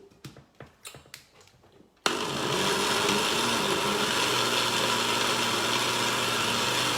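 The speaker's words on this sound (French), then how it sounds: "Donc maintenant, je vais mixer le tout." A kitchen blender mixes ingredients after a few sharp clicks as it is set up, then starts abruptly and runs loud and steady for about five seconds, with no talking.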